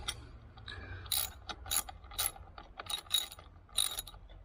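A ratchet tightens a bolt on the rear brake disc guard of a Honda XR400 with stainless steel washers fitted. Quick bursts of close, crisp ratcheting clicks repeat in short runs over a low steady hum, with no talking.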